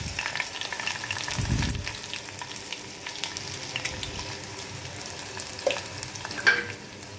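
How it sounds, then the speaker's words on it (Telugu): Garlic and dried red chillies sizzle in hot oil for tempering, a soft continuous crackle with a few sharper pops and a brief stirring scrape near the start. "వెల్లుల్లిపాయలు వేసుకొని ఎండుమిరపకాయలు వేసుకోవాలండి"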